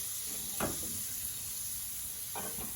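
Whole masoor lentils and rice added to a pot with crushed chillies, a low steady sizzle with two brief stirring scrapes, fairly quiet throughout.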